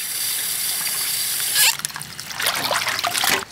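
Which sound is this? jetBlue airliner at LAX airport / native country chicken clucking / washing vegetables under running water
washing vegetables under running water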